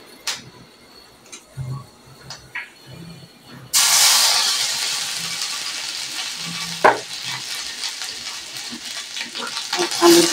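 Ginger paste hitting hot oil in a pan with radish greens, chilli and nigella seeds, a sudden loud sizzle bursting in after quiet stirring clicks and holding as a sustained close hiss with occasional scrapes.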